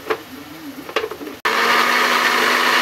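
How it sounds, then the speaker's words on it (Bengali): An electric kitchen blender grinds tomatoes for a jackfruit-seed fritter gravy, switching on abruptly after some clattering handling noises and whirring loudly and steadily for over a second before cutting off. "টমেটো আমি পিষে নেবো, টমেটো পিষে নিচ্ছি"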